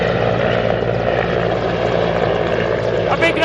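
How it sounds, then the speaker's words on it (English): A military helicopter's steady rotor thrum and engine whine at a firefighting demonstration in Pokhran, India, loud and continuous, with a voice talking underneath. "You can now see the second helicopter align itself to bring blaze further at the control."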